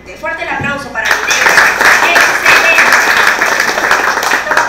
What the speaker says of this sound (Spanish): Fuerte el aplauso para ti.